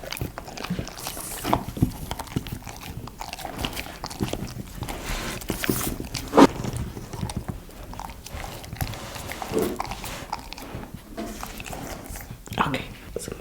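At close range, a corgi puppy chews blueberries with soft, wet bites and mouth clicks that come in irregular bursts, under quiet whispered talk.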